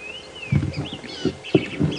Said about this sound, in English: Those are the canaries, those are the yellow fronted canaries.